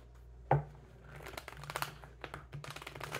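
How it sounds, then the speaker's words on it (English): A sharp tap, then a quick run of flapping, riffling clicks and crinkles as a stiff deck of very thick cards is shuffled up close. "it is hard to shuffle. These are very thick cards."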